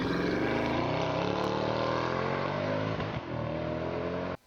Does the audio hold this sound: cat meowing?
no